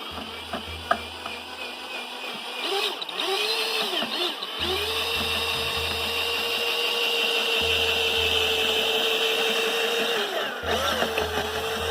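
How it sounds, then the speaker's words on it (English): A drill spins a homemade mixer blade through a can of paint, a sustained whirring motor drone with a rattling mechanical edge, broken by a few short pauses and restarts. "this works really well, stirring my paint"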